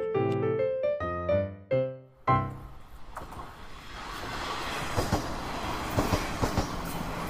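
A short melodic tune plays, then an animated cartoon train rumbles along the tracks with steady clattering and occasional rhythmic clicks, growing slightly louder.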